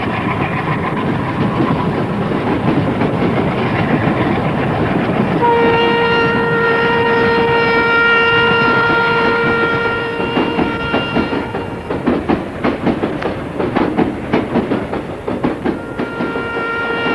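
A passenger train rolls steadily along the rails with a loud, constant rumble. A long horn sounds partway through, and rhythmic clickety-clack of the wheels grows clearer toward the end.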